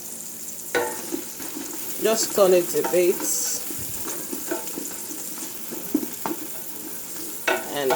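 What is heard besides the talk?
vegetables frying in a pan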